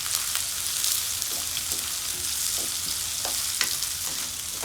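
Onions and ginger fry in a pan for a tomato onion chutney, giving a steady, close, dense sizzle with soft scrapes and clinks of stirring throughout.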